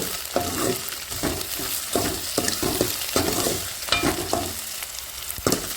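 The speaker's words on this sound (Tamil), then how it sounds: "நல்லா எண்ணெயிலே நல்லா வதங்கணும் வெண்டைக்காய்" Okra sizzling and frying in hot oil for vendakkai rasam, with a steady crackle broken by repeated scrapes of stirring at an uneven rhythm, close and fairly loud, with no talking.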